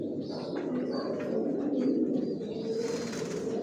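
A Tiger Grizzle racing pigeon coos softly and repeatedly in a loft, with faint chirps from other birds nearby and no talking.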